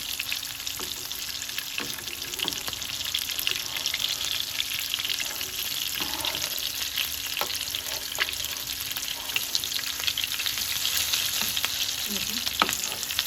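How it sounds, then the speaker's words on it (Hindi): Grated carrot kebabs frying in a pan while being gently turned over: a loud, unbroken sizzle of hot oil throughout, punctuated by occasional spatula scrapes and taps. "आराम से इसको टर्न कर लेंगे ताकि हमारे कबाब ना टूटे।"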